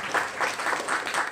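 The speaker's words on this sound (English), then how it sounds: "I hear a meek clap down there." A small audience at a literature talk gives a brief, quiet scattering of applause, a few soft claps repeating across a moment with no speech over them.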